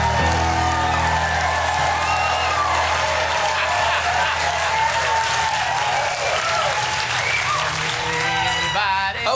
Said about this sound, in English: I left all the cheering in there for you to hear organically how excited the audience was